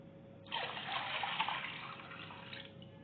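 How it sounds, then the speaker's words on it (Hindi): Water pours into a bowl of yogurt while kadhi is being prepared, a steady splashing gush that fades back to a quiet trickle after a couple of seconds, with no talking. "इसमें आपने 2 किलो पानी ऐड कर लेना है।"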